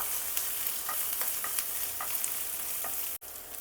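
Ginger garlic paste sizzles and fries steadily in a hot pan, with scattered crackles and occasional stirring scrapes over a constant hiss and no voices.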